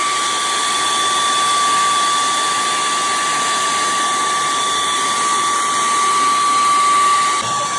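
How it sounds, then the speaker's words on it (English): A hair dryer runs continuously on a high setting, heating a fender badge on a 2018 Ford F-150, a steady loud whine with airy hiss and no talking. "I'll have the hairdryer set on high and just start going to town on it."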